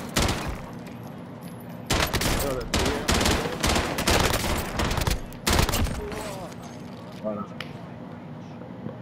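Bursts of rapid gunfire in Call of Duty: Modern Warfare, including a Tec-9, crackle in loud clusters, broken by short pauses, while people talk excitedly over it.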